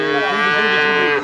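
A Sindhi cow at a cattle market moos once, a loud, close, sustained low call lasting just over a second with no other voices.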